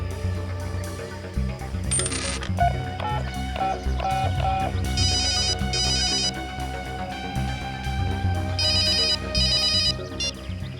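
A phone rings after a number is dialed, with repeated electronic ringtone bursts and tonal chimes sounding loud and steady over a busy background of music or room sound, without speech.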